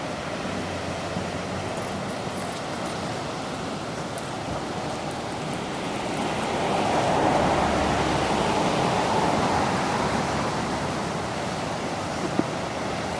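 Ocean surf surging into the rock inlet at Thunder Hole in Acadia National Park, a steady broadband roar of waves that swells louder midway through, with no voices.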